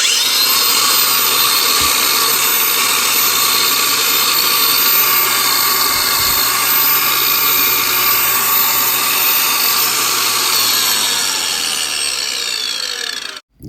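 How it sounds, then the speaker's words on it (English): Makita XAG04Z 18V brushless cordless 4-1/2 inch angle grinder whirs steadily at full speed with a loud, bright whine that holds evenly for about thirteen seconds before cutting off abruptly at the end. "This cordless angle grinder has so much power."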